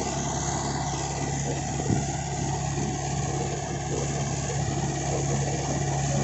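A Mahindra 575 XP Plus tractor pulls a 7-foot rotavator, its engine giving a steady, even drone with a low hum that stays close and constant throughout.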